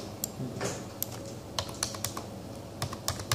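Rapid clicks of a computer keyboard as a number is typed in, a dozen or so sharp keystrokes in short irregular bursts, close and fairly quiet over a soft room hum, with no talking.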